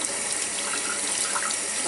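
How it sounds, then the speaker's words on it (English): Red potatoes are scrubbed with a small scrub pad under running water at a kitchen sink. Steady, close tap water splashes and hisses continuously, with soft scrubbing mixed into the flow. "I just like taking a little scrub pad and scrubbing them"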